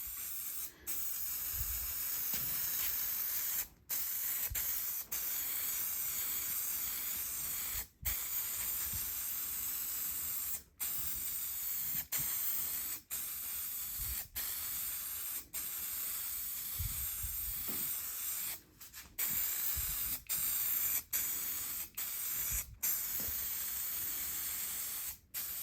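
SEM Color Coat plastic paint hisses from a spray can onto Datsun 280Z interior panels being turned from brown to black, in long close bursts separated by brief silent pauses, with no voices.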